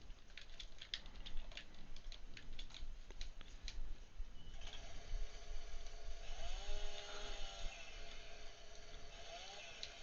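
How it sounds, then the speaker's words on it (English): A chainsaw in Farming Simulator 15 on the Sosnovka map, cutting branches off a felled tree. Light clicking at first, then a steady buzzing engine tone that rises and falls in pitch as it cuts. "get all the branches off of the thing. That'll give me a good place to cut."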